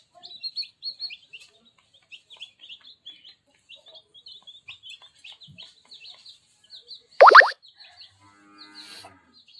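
A hen with newly hatched chicks gives a run of thin, high chirps, broken by one louder, harsher call partway through, with quiet pauses between the peeps.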